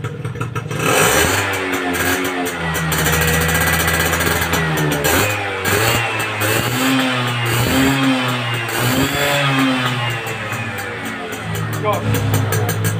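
A Yamaha Fiz R motorcycle fitted with an RX King CDI revs repeatedly up close, its two-stroke engine rising and falling in loud bursts with a rattling, clattering edge in a workshop.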